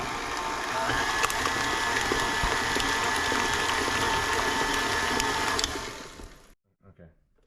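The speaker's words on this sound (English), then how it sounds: "now we're going to mix the bananas up with the wet ingredients." An electric mixer whirs steadily for about six seconds as mashed bananas are mixed with wet ingredients for gluten-free, dairy-free banana bread, then winds down and stops.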